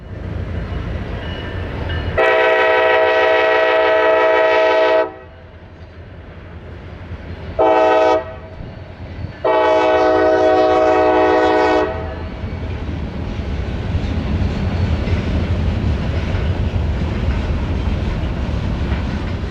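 A pair of CSX EMD diesel locomotives pulls a freight train through the small town of Grifton, sounding loud multi-tone horn blasts in a long-short-long pattern over a steady rumble and rolling wheel noise.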